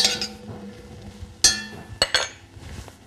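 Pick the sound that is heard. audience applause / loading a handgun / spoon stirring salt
spoon stirring salt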